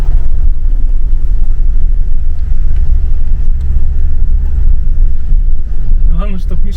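A Mitsubishi L200 pickup loaded with a ton of sacks drives toward the mountains, its engine a loud, steady low rumble mixed with road and wind noise from inside the cab, with a voice briefly heard near the end.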